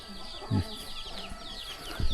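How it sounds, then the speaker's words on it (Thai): Chickens cluck and call faintly at a distance, with a few duck quacks mixed in over a quiet outdoor background, in a rural village in Sepon, Laos, in the evening. "เสียงเป็ดเสียงไก่ฮ้องแซวๆแล้วยามแรง"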